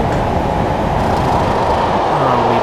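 A Class 37 train rolls through a station on the Norwich to Great Yarmouth line in Train Simulator 2016, with a loud, steady rumble of engine and wheels throughout and a faint squeal near the end.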